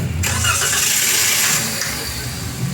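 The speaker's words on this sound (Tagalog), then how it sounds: "Pag puno na yan, pa-start nyo na itong makina." A Toyota Avanza engine that has been running unusually hot cranks and catches, then settles into a steady mid-pitched idle; close and loud, with no talking.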